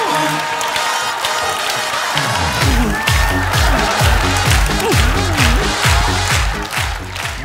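Studio audience at a Korean sketch comedy show applauds and cheers loudly and steadily for several seconds, a dense crowd wash with voices mixed in.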